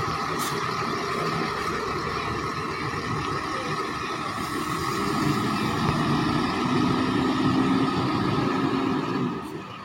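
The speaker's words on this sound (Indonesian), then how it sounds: "menjadi pembuka keberangkatan bus dari Payakumbuh tujuan ke Jakarta, Bandung dan sekitarnya" A bus departs from Payakumbuh bound for Jakarta, its engine rumbling steadily with low drone and slight surges, moderately distant under a faint background voice.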